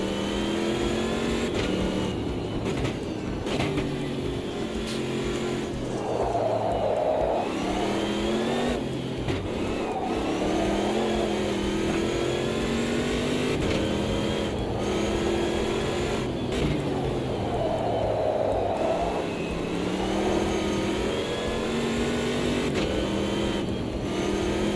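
A Mercedes race car engine in Assetto Corsa EVO drones steadily and close, with repeated gear shifts and revs rising and falling through corners over a long stretch of continuous driving.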